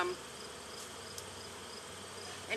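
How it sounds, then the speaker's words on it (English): A soft, steady buzz of honey bees around a hive hums in the background, fairly faint and continuous, with a brief click partway through. "There's plenty of bees here. They look healthy."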